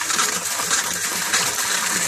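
Running water pours into a freshly cleaned household sink used for washing clothes and dishes, a close, steady splashing gush with small fluctuations and no talking.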